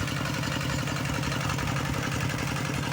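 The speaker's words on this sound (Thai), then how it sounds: "ใช้รถไถสูบน้ำขึ้นมาเนาะ" A walking tractor's engine drives a water pump filling a rice paddy from a large pond, a loud, steady, close mechanical chug with a continuous clattering throb.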